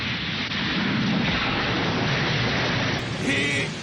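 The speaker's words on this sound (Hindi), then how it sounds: "अब आसमान में बिजली कड़केगी और बारिश आएगी।" A deep, continuous rumble rolls on like thunder, loud and broad, with a rushing noise layered over it.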